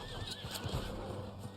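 Horse neighing in Red Dead Online, a brief whinny over a dense bed of game ambience with hooves faintly clip-clopping beneath, close and moderately loud.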